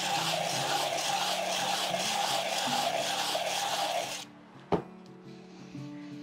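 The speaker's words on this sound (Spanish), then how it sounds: "tomamos esta tablita que igual tiene una lijita más finita" A fine sandpaper board scrapes back and forth over a handmade clay piece in a steady, close rasping rhythm. After a few seconds it stops, leaving a single sharp knock over a quiet background hum.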